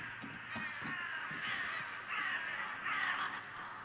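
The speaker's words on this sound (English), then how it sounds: "So now we know the crows mean a vampire nest." Crows caw repeatedly in the video game Redfall, harsh calls rising and falling in several bursts over a steady ambient bed, fairly close and prominent with no talking.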